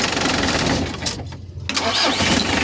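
A rebuilt engine fitted with new piston rings and a cylinder gasket cranks and fires, settling into a steady, loud running drone with a brief dip before it picks up again.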